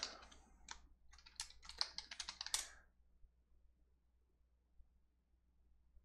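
Quick bursts of typing on a computer keyboard, a close flurry of clicky keystrokes for about three seconds, then near silence with faint background hum.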